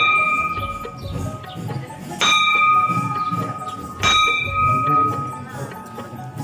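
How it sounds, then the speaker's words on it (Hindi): A child rings a metal temple bell at a Hindu temple entrance, two clear, loud strikes about two seconds apart, each ringing on with a long, bright shimmering tail. "मंदिर के अंदर घुसने से पहले घंटी बजाकर घुसना चाहिए"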